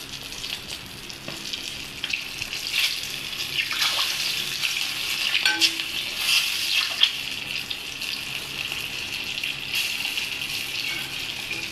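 Bhola fish pieces frying in a pan over a low gas flame make a steady, continuous hissing sizzle with faint crackles, heard alone for about twelve seconds.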